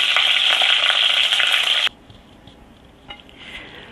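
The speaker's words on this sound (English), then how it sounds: "I'm going to sear this next side, and I'm just going to keep doing this until every surface is seared" Pork roast searing in a hot pan, a loud close sizzle that cuts off abruptly partway through, leaving faint clinks and low background noise.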